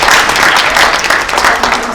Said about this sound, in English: Bridget, can everybody give a round of applause for Bridget?